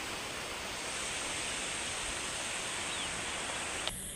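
Steady broadband rushing of a river flowing beside an agri-tourism center, continuous and fairly loud, with no voices; a brief click near the end.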